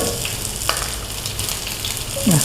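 Chopped garlic frying in hot oil in a pan, a dense, steady sizzle that carries on throughout with a brief scrape of stirring and no talking.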